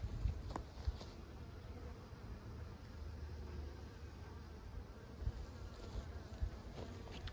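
Honeybees buzz around an open hive during an inspection, a faint, continuous droning hum with individual bees passing close now and then.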